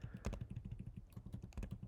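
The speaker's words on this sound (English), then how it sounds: "give me just a second while I type specific using the keyboard" Someone types quickly on a computer keyboard, producing a close, steady patter of key clacks with short pauses and no voices.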